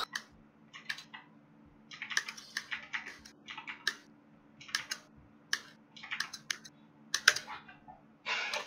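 Fast bursts of typing on a computer keyboard during an Overwatch-style game session, clattering in quick clusters with short pauses, close and fairly quiet over a steady low hum.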